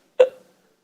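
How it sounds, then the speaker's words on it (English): A single sharp hiccup, close and fairly loud, gives a quick voiced gulp that fades within a fraction of a second into silence. "when I start hiccuping, all I want to do is stop"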